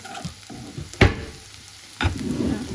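Dried fish chutney frying in a pan while being stirred, steady sizzle with two sharp scraping clatters of the utensil against the pan, close and clear with no talking.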